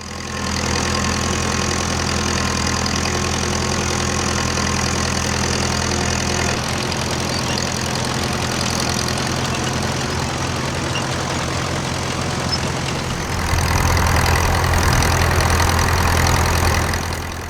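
A diesel engine idles steadily on an ED40 tractor from 1967 or 1968, built by the Standard Motor Company and similar to the Massey Ferguson 35 unit. The idle is close, even and knocking, and it shifts to a deeper, louder rumble near the end.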